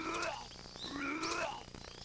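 Frogs croak in a Metal Gear Solid game, a run of close, warbling calls repeating over a steady ambient jungle soundscape, loud and continuous for about two seconds.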